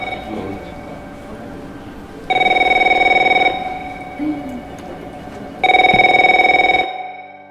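A telephone rings in two long electronic bursts with a pause between them, over a steady background hum, and a short murmur sounds in the gap.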